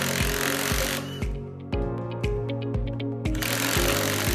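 A power tool drives and shears the bolt heads off an insulation piercing connector during a service center install, a loud continuous whirring with rhythmic pulsing impacts and a brief lighter stretch midway.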